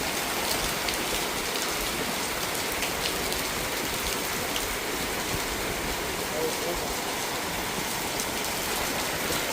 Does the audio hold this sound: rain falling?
yes